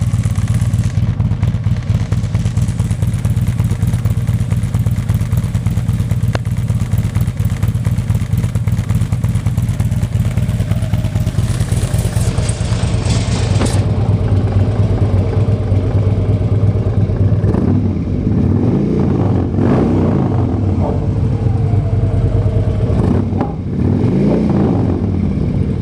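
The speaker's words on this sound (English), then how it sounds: "hopefully that gives you an idea of what the Fuel Moto exhaust system sounds like." 2011 Harley-Davidson Street Glide with a Fuel Moto Jackpot exhaust and Woods 555 cams, heard from behind: a loud, close, lumpy idle with a steady throb, and a few blips of revving toward the end.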